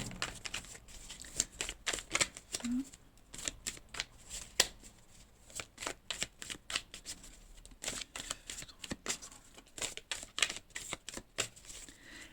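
Tarot cards are shuffled close up in a rapid series of crisp riffling bursts and soft slaps, some pauses between handfuls, and no talking.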